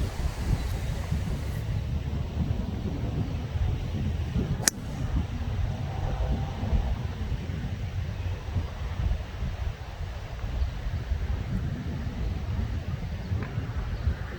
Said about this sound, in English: It's really hard with strength of wind like that.